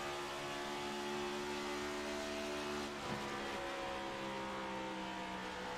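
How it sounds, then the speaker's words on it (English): Cup Series stock car engines at Charlotte drone steadily at a distance in a race broadcast, a sustained multi-tone roar with a slight shift as one car eases off the throttle midway. "Get to really hear these engines."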